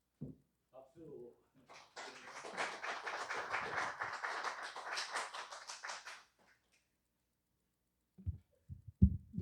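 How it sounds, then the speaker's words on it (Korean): A church congregation claps together for about four seconds, a dense burst of applause welcoming a member forward to give testimony, with brief murmurs and shuffling before it and a few soft knocks after. "박수."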